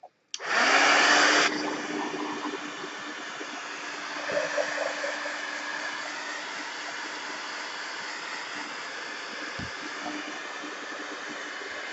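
A hair dryer blows over mixed media artwork, starting with a loud blast before settling into a steady, hissing whoosh that runs on continuously.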